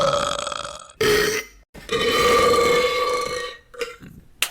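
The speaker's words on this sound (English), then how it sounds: "Here is an example of the sound of a burp." A long, loud human burp rumbling from the mouth, followed by a few shorter belches and a final sharp burst, with brief silent gaps between them.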